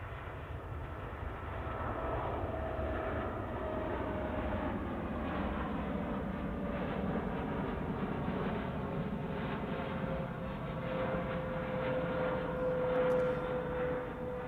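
An Air India Boeing 787 Dreamliner departs Manchester Airport with a steady distant engine roar that holds evenly throughout, with a faint rising whine.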